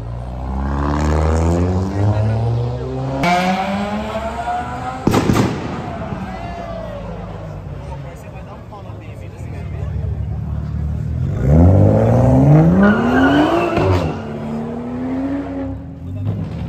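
A Dodge Viper RT/10 sports car drives past on a city avenue, its engine growl swelling and falling as it passes close by, with a second rising engine pass later and people talking over it.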